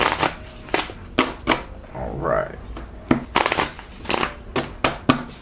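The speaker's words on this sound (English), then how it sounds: "I've taken a little shuffling your cards." Tarot cards are shuffled in several quick riffling bursts, close up, with short pauses between, and a brief crinkling rustle in the middle.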